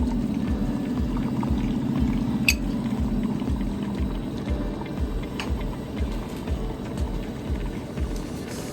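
Liquid pouring steadily into a pan on a Coleman camp stove for an omelet, with a gurgling, bubbling flow, close and continuous, a faint clink partway through.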